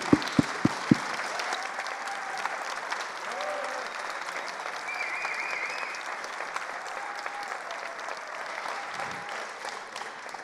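A few sharp, separate claps open, then a big assembly hall audience breaks into sustained, louder applause for standing volunteers at a civic service plenary, continuous and dense to the end.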